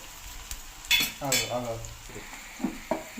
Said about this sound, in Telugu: ఇప్పుడు ఈ ఉల్లిపాయలు వేగిపోయినాయి ఫ్రెండ్స్